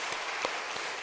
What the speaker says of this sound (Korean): 이제 박수 한번 쳐봐요. 정말로.